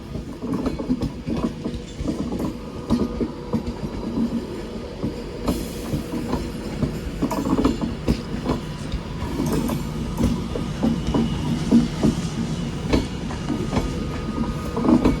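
A train rumbles through Manchester Piccadilly station, with a steady low rolling drone and intermittent rattles and clanks of wagons running continuously and fairly close.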